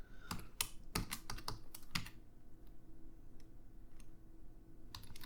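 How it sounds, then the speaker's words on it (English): Rapid clattering keystrokes on a computer keyboard in quick bursts, then a few sparse isolated taps after a pause, close and fairly quiet with no voice. "I'm just going to type them out real quick."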